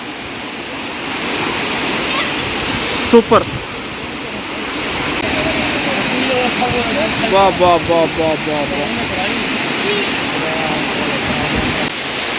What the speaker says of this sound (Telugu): వాటర్ ఫాల్ అయితే అదిరిపోయింది